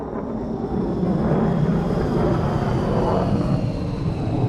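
A plane with its landing gear down passes low overhead during a train simulator run on the Brighton Mainline near Gatwick. A broad, loud engine roar holds steady throughout.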